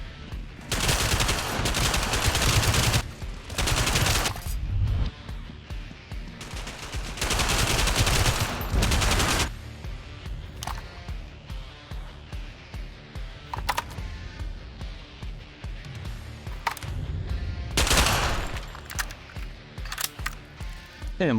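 An MP-40 submachine gun firing in a WWII shooter video game: several loud, close full-auto bursts of a few seconds each, separated by quieter stretches with scattered single shots and clicks.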